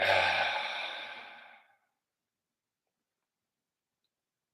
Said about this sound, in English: And then release that breath out.